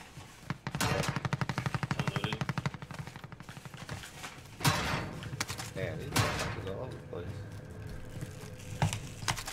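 Rapid automatic gunfire in Call of Duty Warzone: a sustained machine-gun burst at the start, then scattered single and short-burst shots with impacts, while players talk over the action.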